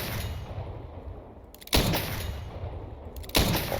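Video game gunfire, heard as two loud booming shots roughly a second and a half apart over a constant noisy game background.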